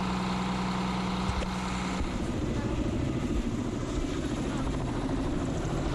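A helicopter drones with a steady rotor thrum and engine whine during cargo unloading at an Antarctic research station, fairly close and continuous, with faint voices mixed beneath.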